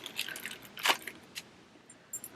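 Small metal zipper pulls for a handmade purse jangle and clink briefly as they are handled, a few light clicks, one brighter rattle, then a final soft clink, close and faint.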